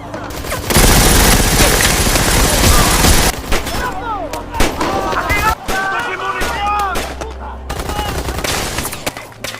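A battle scene from the 2017 war film Zona Hostile fills with dense, loud gunfire: sustained automatic bursts and booming blasts, then scattered shots, with voices shouting beneath the fire.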